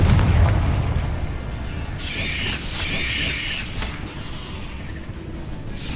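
A Confringo blasting spell in Hogwarts Legacy sets off a deep, booming explosion with a loud rumbling onset, followed by crackling debris and a bright hissing shimmer that fades over several seconds.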